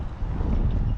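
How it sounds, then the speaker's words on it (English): Outdoors at the Talladega racetrack in Alabama, gusty wind buffets the microphone, a loud, rumbling low roar lasting about a second with no voices. "It's pretty windy out here"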